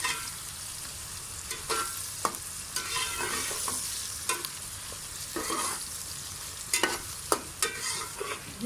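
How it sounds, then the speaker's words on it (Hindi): Onions browning in ghee are stirred in a pan, a continuous crackling sizzle broken by repeated scraping strokes of the spoon, closer and busier toward the end. "ये प्याज हमारा थोड़ा थोड़ा सा ब्राउन शुरू हो गया है"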